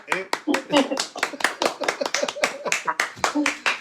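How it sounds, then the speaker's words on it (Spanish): Applause for a stunt performer's action scene during a Galician stunt-specialist interview: dense, steady clapping from several people, close and continuous throughout. "un aplauso aí para ela"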